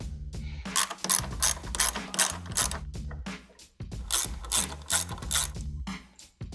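A ratchet wrench working 10mm bolts out on a Ford F-150 Raptor headlight: close, rapid clicking bursts in repeated strokes, with a brief pause midway before the rhythmic ratcheting resumes.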